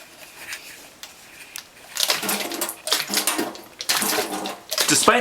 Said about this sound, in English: Despite having reclosed the mouth opening, significantly more liquid still comes out of the baseline lid.